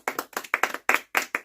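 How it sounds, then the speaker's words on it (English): A few people clapping close by, a brief burst of sharp, uneven hand claps in short clusters with small gaps between them, with no voices over it. "Oh yeah, clap it up."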